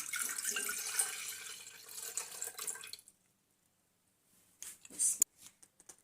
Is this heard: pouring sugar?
yes